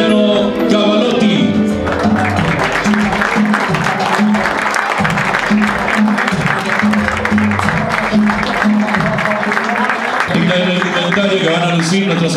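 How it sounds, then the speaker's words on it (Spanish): Audience applause at a 2018–19 official kit presentation for a football club, steady dense clapping filling most of the stretch, with a voice over a PA system at the start and end. "El aplauso fuerte para ellos"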